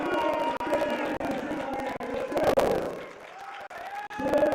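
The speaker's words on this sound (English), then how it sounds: "He's getting the crowd hype." A powerlifting meet crowd roars and cheers to hype up a lifter before his heavy attempt at Open Nationals, a loud swelling wash of voices and applause that peaks midway and then eases.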